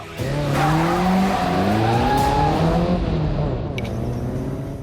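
A car engine revs hard with rising and falling pitch while tires squeal continuously in a long drifting skid, loud and close.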